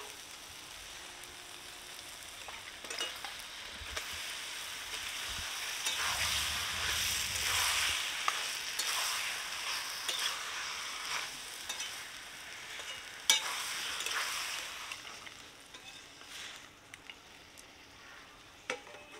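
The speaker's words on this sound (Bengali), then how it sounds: "মশলা কষে গেছে, এবার মাংস দিয়ে দিব" Chicken pieces fry in spiced masala in a pan, giving a faint, continuous crackling hiss with scattered small pops and clicks over a long stretch.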